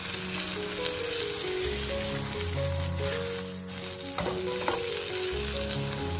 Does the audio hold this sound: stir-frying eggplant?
yes